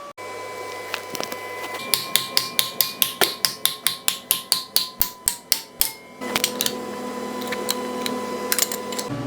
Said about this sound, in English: Let's break it again and put it in a vise.